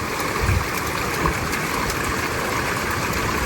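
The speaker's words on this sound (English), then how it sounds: "we need a little more water flow, a little more" Water rushes steadily through a sluice on the Yuba River in 2024, a constant broadband wash with a low pump-like hum underneath and no talk.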